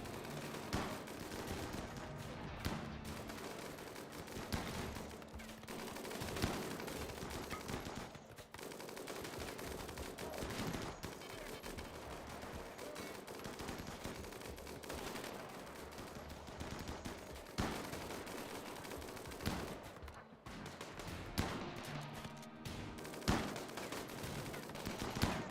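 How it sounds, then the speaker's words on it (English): Gunfire in the RimWorld video game rattles in dense overlapping bursts, with rapid shots and volleys running almost continuously at moderate loudness throughout. "Now we can come back out and shoot at them while they're dealing with the turrets."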